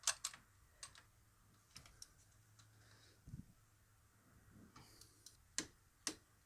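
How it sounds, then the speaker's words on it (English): Torque wrench clicking as it reaches set torque on a bolt during a Kawasaki ER-6f/ER-6n Versys motorcycle service, giving sparse, sharp close clicks spaced irregularly over quiet background with light handling noises. "You're going to grab your torque wrench, which is set to the correct torque spec."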